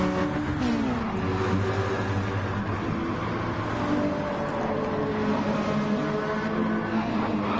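Racing car engines from a PS4 racing game drone and rev steadily throughout, a dense continuous motor roar with shifting pitch and no pauses.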